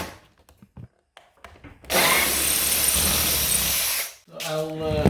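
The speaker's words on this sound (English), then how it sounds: "So now these ones I will drill vertically to put screws with bolts." Power drill boring holes into a garage door being reinforced, a loud sustained whine lasting a couple of seconds after a few knocks and quiet handling, with speech following the drilling.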